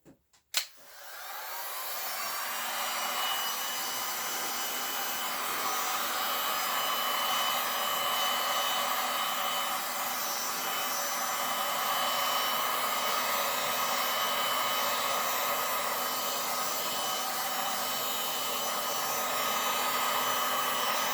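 A heat gun blows a steady, loud, continuous hiss of hot air over resin art. It starts after a brief click and runs unbroken to the end, with no voices.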